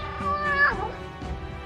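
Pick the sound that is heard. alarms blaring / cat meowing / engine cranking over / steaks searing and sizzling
cat meowing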